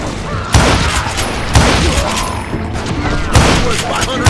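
Gunfire in Call of Juarez Gunslinger, a Wild West shooter: loud, dense shots and booming blasts in rapid bursts, with heavy repeated cracks over a constant battle din.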